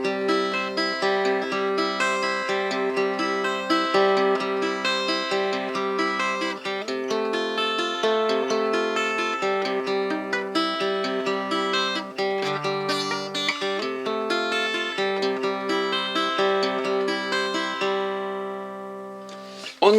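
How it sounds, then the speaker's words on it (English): A tenor guitar plays a 12-bar blues as picked arpeggios, the notes ringing out in a steady, even rhythm for twenty seconds with no talking. "So the 12-bar blues in arpeggio would sound like this."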